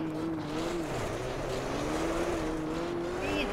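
A Toyota Celica rally car in the Richard Burns Rally video game drones steadily at sustained revs. The engine pitch dips and climbs gently over gravel-like road noise.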